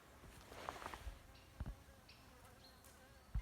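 Quiet buzzing of bees hovering at a hanging log hive, a faint drone with occasional soft knocks and rustles in the background.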